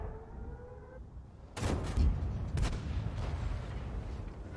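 Tank cannon fire in World of Tanks game play, a few heavy booming shots with rumbling tails, fairly loud against low background noise.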